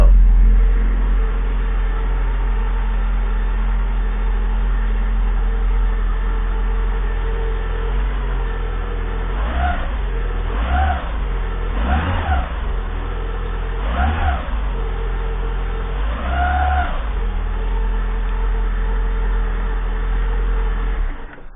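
A Citroën AX engine, just back together after a head gasket repair, runs at a steady idle with a few short revs partway through, a continuous close, even hum throughout.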